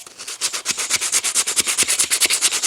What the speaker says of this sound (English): I just took my sandpaper the same way, kind of folded the shape of this.